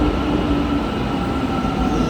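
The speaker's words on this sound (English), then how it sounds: "I'm moving in this metro actually" Istanbul metro train in motion, heard from inside as a loud steady rumble with a constant low whine and no breaks.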